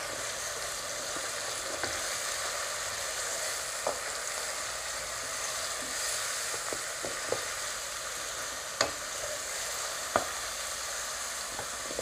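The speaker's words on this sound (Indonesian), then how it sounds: "Kita tumiskan bahan-bahan tu sehingga wangi" Pounded lemongrass and spices sauté in a pan for a red fish asam pedas, a steady close sizzle of frying with occasional clicks and taps of stirring, no voices.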